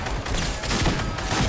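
Gunfire in the video game Fortnite, a dense, loud burst of rapid, overlapping shots packed into a second and a half with no pause.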